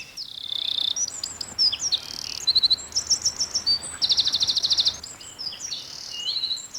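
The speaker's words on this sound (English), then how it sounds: "It's a wren, a very powerful sound for a little bird." A wren sings loudly in forest, a rapid run of high trills and sharp chirps in varied bursts with fast rattling phrases, close and strong over faint insect background.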